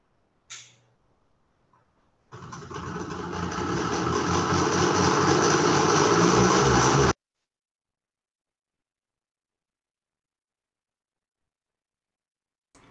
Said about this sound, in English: His motorcycle action was a bit too loud there.